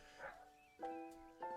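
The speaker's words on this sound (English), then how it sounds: "Apologies for the dog barking." A dog barks three times indoors, each bark a short harmonic yelp spaced under a second apart at moderate, somewhat distant volume, with a faint background hum.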